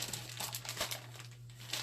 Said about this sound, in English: I got some plastic bags, I guess, to deliver orders or put orders in